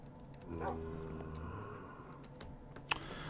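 A soft, high whining whimper from a dog in a video game rises and fades, followed by faint clicks and a sharp tap against a low background hum.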